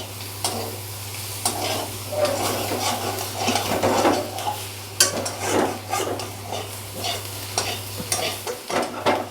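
Steady close sizzling in a hot pan with repeated scraping stirs as spices are sautéed and mixed with small kachki fish and potato, a low constant hum underneath.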